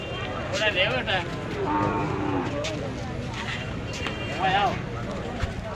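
Cattle at a Sylhet livestock market low and moo in several drawn-out calls amid crowd chatter, with people talking throughout.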